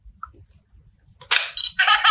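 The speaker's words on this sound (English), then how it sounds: "press the shutter button for peekaboo and a frame pops up and baby hears laughing" Shutter button on a Hap-P-Kid Little Learner My First Instant Camera baby toy, a sharp plastic click after near silence, followed at once by a bright electronic sound effect, loud and close.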